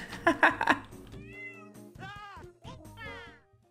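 Cartoonish cat meows from the video game Tasty Planet Back for Seconds, a burst of several quick mews followed by a string of longer, wavering meows over a steady game tune, with no talking.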